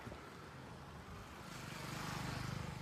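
An auto rickshaw being driven out, its small engine putting steadily and then growing louder and rougher as it revs, close by with no talking.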